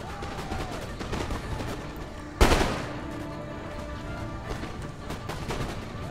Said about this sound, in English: that just leaves them more exposed to my musketry for a longer period of time